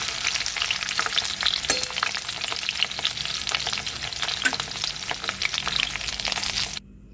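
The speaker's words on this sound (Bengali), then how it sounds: "করলাটা ভেজে তুলে নিলাম এবার পটলগুলোকে দিলাম" Steady, dense sizzling of pointed gourd frying in hot oil, with occasional stirring clinks, continuous and close, then cutting off abruptly near the end.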